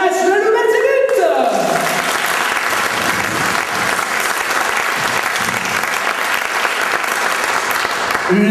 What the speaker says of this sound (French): applaudissons le vainqueur du match, le loup Belzébuth